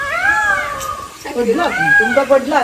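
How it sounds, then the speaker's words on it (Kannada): A peacock gives two loud, wailing, meow-like calls nearby at a grandmother's rural home, with voices talking around the calls. "ನವಿಲು ಸೌಂಡು"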